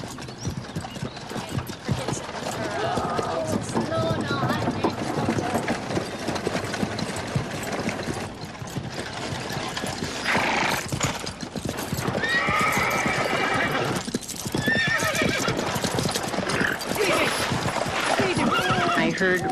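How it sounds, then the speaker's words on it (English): Team of heavy draft horses running away with a covered wagon, with rapid hoof clip-clops and loud repeated whinnies and screams over engine-like rumble, close and chaotic. "The horses were running away very fast."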